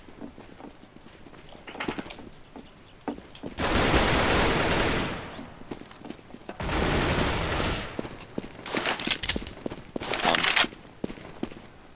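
CS:GO gunfire on the Inferno map, two loud sustained bursts of automatic fire separated by quieter gaps, then clusters of sharp single shots near the end.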